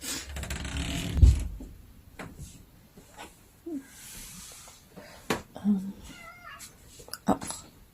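A cat gives a few short meows amid faint background noise and occasional small knocks, with a brief louder thump near the start.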